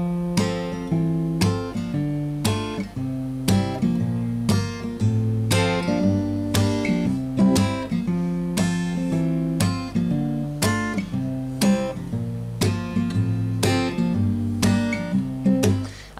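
Close acoustic guitar strumming the verse chord progression of a song, a steady, rhythmic pattern of bright chords with percussive accents, played alone at an even volume.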